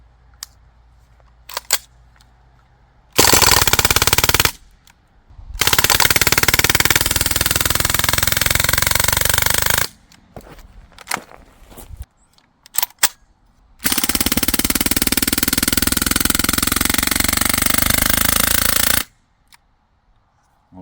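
A Crosman R1 DPMS SBR gas piston air rifle fitted with a custom CNC part fires long, loud bursts with heavy blowback. Several sustained volleys are separated by brief pauses with scattered single shots and mechanical clicks.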